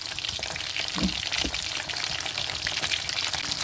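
Chicken pieces frying in hot oil for broast pulao, a steady dense sizzle with a few soft knocks as the pieces are turned over.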